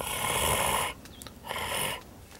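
Two breathy, raspy bursts, like someone imitating a gurgling turkey call with a mouth call, separated by a short pause, close and fairly quiet.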